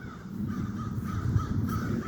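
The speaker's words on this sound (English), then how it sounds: "Yeah, see? Those birds," Crows caw in a repeating series outdoors during a tornado warning in Swanzey, New Hampshire, the calls fairly close over a steady low rumble of wind and ambient noise.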